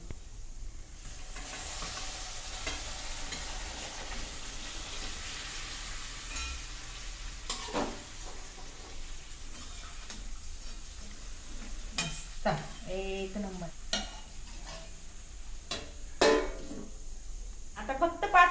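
Chicken frying in a pan, a soft steady sizzle with scattered scraping stirs that get busier and louder toward the end, no voices over it.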